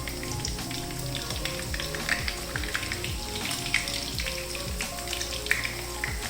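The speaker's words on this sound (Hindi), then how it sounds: "एक इसकी साइड को तकरीबन 2-3 मिनट मैं फ्राई करूँगी" Chicken shami kababs fry in a pan over low heat, giving a steady close sizzle with faint spits and pops throughout and no voices.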